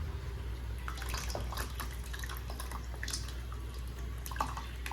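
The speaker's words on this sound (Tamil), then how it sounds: "இப்போ புளித்தண்ணி சேர்த்துக்கலாம்." Tamarind water pouring and splashing steadily into a cooking pot, with scattered small drips and splashes over a constant low background hum.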